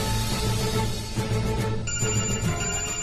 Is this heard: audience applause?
no